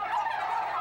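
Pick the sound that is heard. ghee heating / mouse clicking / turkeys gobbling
turkeys gobbling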